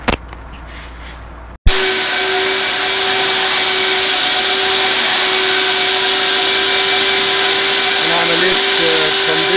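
After a brief quiet moment, a mobile steam cleaner for cars, carpets and upholstery kicks on abruptly and runs loudly with a steady motorized whine and hum, continuing without pause.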